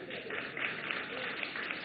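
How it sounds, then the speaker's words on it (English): Audience applause at a live comedy talk, a dense steady patter of many hands clapping from a crowd, sustained and fairly loud throughout. "Clap for me if you're single."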